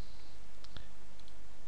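A handful of sharp mouse clicks land irregularly over steady room noise as numbers are entered on an on-screen keyboard in Kaspersky Pure 9.1.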